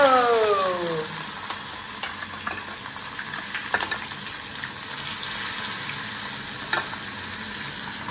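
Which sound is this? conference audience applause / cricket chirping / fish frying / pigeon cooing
fish frying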